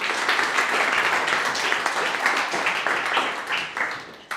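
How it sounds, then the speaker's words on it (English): Applause from a live audience at a startup pitch competition in Edinburgh, honouring the judges: dense, steady clapping filling the whole stretch at moderate loudness, with no voices on top. "can I get a massive round of applause for our judges,"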